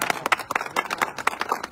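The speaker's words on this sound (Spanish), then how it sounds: "Un aplauso." A small group claps at an award presentation, quick uneven hand claps close by for a couple of seconds with no voices over them.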